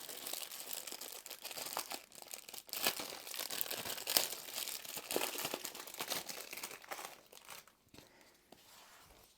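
Plastic parcel packaging from AliExpress holding a phone case is opened by hand. Soft, irregular crinkling and rustling go on for several seconds at low volume, then fade near the end.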